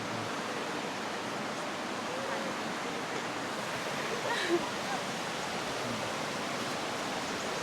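Steady rushing river water flows without pause, a broad even wash of sound.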